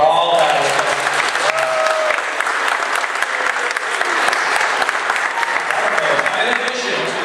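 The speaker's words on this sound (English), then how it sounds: "Let's have a round of applause for all of that." An audience at the Red Ribbon Runway 2014 fashion show claps in a thick, sustained wash of applause, with a few voices and cheers rising briefly above it near the start.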